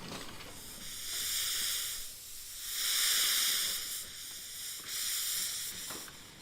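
Steady steam hissing from a train in a video game swells and fades in several long waves, loud and close, with no voices.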